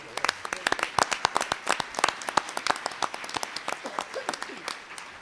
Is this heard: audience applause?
yes